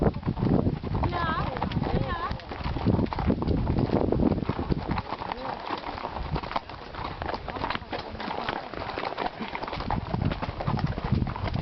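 Horses gallop on a western ranch in the Haut-Languedoc during a cattle drive: continuous thudding hoofbeats with rustling and wind, people talking over the hooves throughout.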